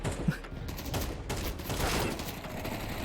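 AK rifle fire in Counter-Strike, quiet and somewhat distant, with scattered bursts of shots and clatter spread across a few seconds beneath the game's background noise.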